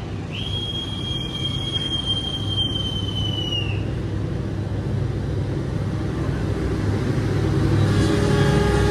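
The Pandalungan train pulls out of a station, a long high wheel squeal ringing out early over a low, steady rumble that grows slightly louder as it moves off.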